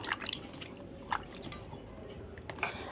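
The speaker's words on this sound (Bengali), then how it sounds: "এবার আমি কলাগুলো ছেড়ে দেবো এর মধ্যে কলাগুলো ভালো করে একটু ধুয়ে নেবো" Bananas dropped into a bowl of water and washed by hand, heard as soft splashes, drips and squishy handling noises at close range, fairly quiet with no talking.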